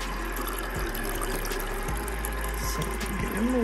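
Water running and splashing into a glass or container at home, a steady liquid flow with gurgling bubbles, close and continuous, with a faint hum underneath.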